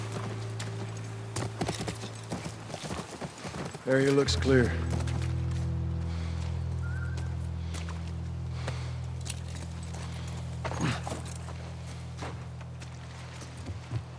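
Horse hooves clip-clop on a ranch in The Last of Us Part 1, a steady clopping beneath a low droning background, with voices talking over it.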